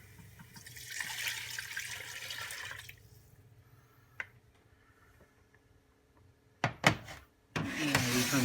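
Liquid is poured into a hot pan for buffalo chicken soup: a rushing pour early on, then quiet, a few sharp clatters, and a final burst of sizzle and splashing.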